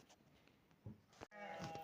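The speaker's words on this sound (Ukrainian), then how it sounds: "Вівці наші вже просяться на вигул." Farm sheep calling in a barn to be let out to graze on a rural homestead, a few bleats rising over low background noise, with one clearer call near the end.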